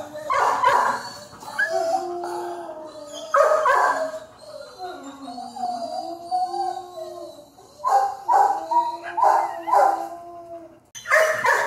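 Dogs bark, yip and whimper at an animal shelter, several voices near and loud in repeated bursts with whining howls between them.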